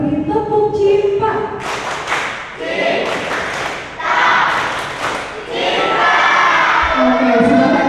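A classroom group doing a rhythmic chant-and-clap routine, loud voices calling out together in bursts punctuated by synchronized claps and thumps, close and energetic with brief pauses between phrases.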